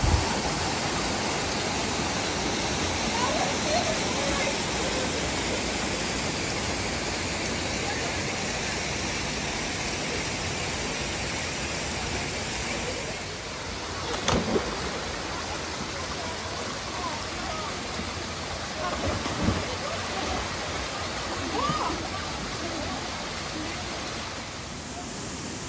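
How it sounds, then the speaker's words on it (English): A waterfall at Browns River Falls on Vancouver Island rushes with a loud, steady, continuous roar of falling water throughout. "On the other side, you can see the amazing waterfalls."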